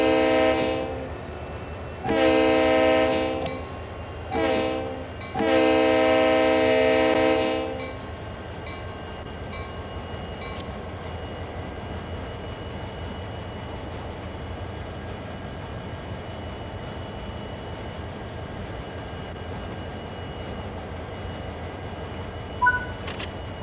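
A Clinchfield Railroad diesel locomotive in Train Sim World 4 sounds several loud horn blasts, then settles into a low steady engine drone as it begins to move, with a faint clank near the end.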